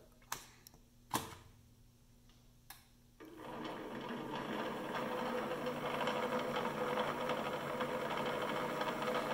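A PM-728V-T milling machine spindle on the high-speed pulleys at 4375 RPM: a few sharp clicks, then the motor starts and settles into a steady, close whirring hum that holds to the end.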